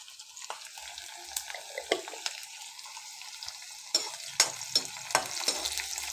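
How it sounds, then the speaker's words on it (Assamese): Bitter gourd and jackfruit seeds fry in hot oil with panch phoron, chili and onion, giving a close, steady sizzle broken by repeated stirring scrapes and clatters, with no talking. "দি সেই তাতে ভাত কেৰেলা আৰু কঁঠাল গুটিখিনি দি দিছোঁ"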